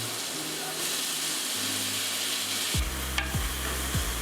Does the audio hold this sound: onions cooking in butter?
yes